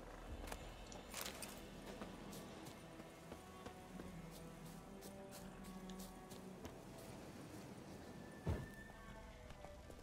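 Horse from The Witcher 3 video game, with soft hoof clip-clops and movement sounds layered over game ambience and music, plus one sharper thump near the end; no speech.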